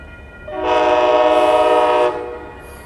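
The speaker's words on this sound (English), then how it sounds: "Amtrak Coast Starlight number 11 going southbound at 98th Avenue." An Amtrak Coast Starlight passenger train, number 11, heading southbound at 98th Avenue in Oakland, California, sounds a loud, steady horn blast of about a second and a half over low rumbling rail noise.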